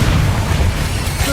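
Bombarda explosion spell blasts in Hogwarts Legacy combat, a loud booming, rumbling burst that sustains with dense low-end crackle over about a second.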